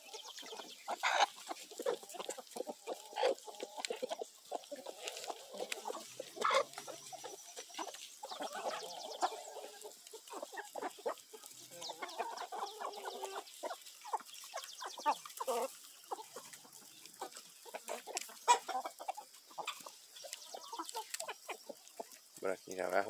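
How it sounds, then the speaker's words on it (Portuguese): A free-range farm chicken clucking near a house in the early morning, with busy, repeated clucks and chatter throughout, close and moderately loud, with a few quiet voices in the background. "É um caipirão esse frango"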